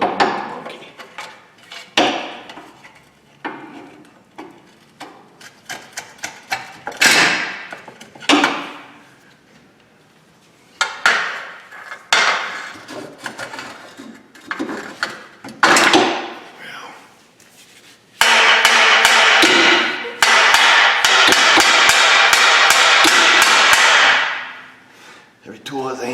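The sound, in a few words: hammering with the back of a tool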